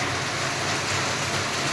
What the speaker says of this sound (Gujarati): heavy rain